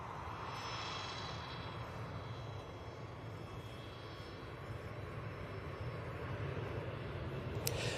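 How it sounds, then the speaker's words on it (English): A Jet2 airliner on approach to Manchester Airport without its landing lights on, a steady, distant broadband engine roar that holds at an even level and swells slightly toward the end. "You can tell it's a Jet2 coming in."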